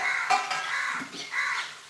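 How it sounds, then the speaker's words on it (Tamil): A pair of crows cawing from a mango tree bearing young fruit, several harsh caws close by in quick succession with no talk. "அங்கே ரெண்டு காக்கா இருக்குது எப்பயுமே ஜோடி காக்கா"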